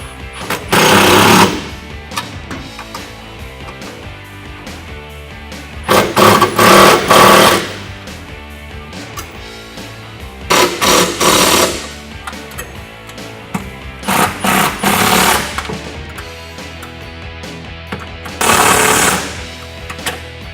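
An impact wrench runs bolts tight on Ram 1500 side step bar brackets in loud buzzing bursts of one to two seconds, separated by pauses with faint ratcheting and handling noise.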